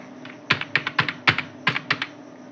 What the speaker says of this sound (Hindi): मैंने फिर से टाइप कर दिया।